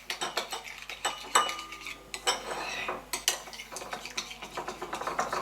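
A utensil stirs bugnes dough in a bowl for French carnival fritters, scraping and clinking against the bowl sides in quick irregular strokes, close and fairly loud, with no talking.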